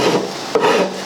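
A wood rasp rubs and files along the edges of a rustic wooden Peloton rack, giving a close, continuous gritty scraping that breaks briefly near the midpoint before resuming.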